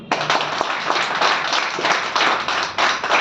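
Crowd at a business network leaders' event claps loudly in a dense, steady burst, with a few sharper individual claps standing out near the start, continuous for the whole stretch.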